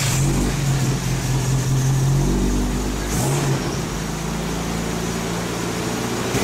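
A 1984/1986 Toyota Corona engine idles steadily after a cold start following a month unused, a close, even low hum with a brief shift in pitch midway before settling into a constant drone.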